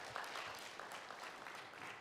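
Audience applause at a FinTech exhibition, a steady wash of many hands clapping at moderate distance throughout, with no talk over it.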